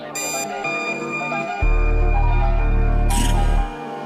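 An alarm clock rings in short bright bursts within a French morning radio jingle, with a loud low buzzing tone between the rings over a musical backing.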